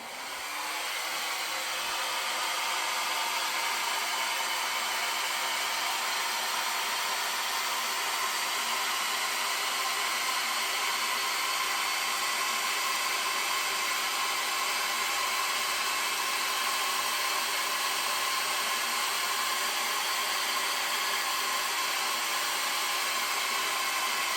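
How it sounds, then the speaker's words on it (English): A hair dryer blows steadily at close range, a loud, constant whooshing roar that holds unbroken for the whole stretch. "Spin a little and then use my other blow dryer"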